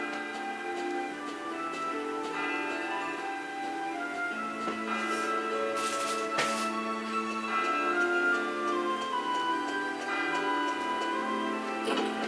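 Inside a building in Dragon Quest VIII, a clock ticks in a steady, even rhythm, faint and sitting beneath a sustained, layered background melody, with a couple of brighter chimes near the middle.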